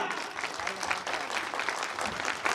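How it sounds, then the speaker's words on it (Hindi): A crowd claps steadily and enthusiastically, a dense continuous patter of applause lasting throughout. "गुरुजी प्रवीण सर के लिए, महागुरु विजेंद्र सर के लिए एक जोरदार तालियां।"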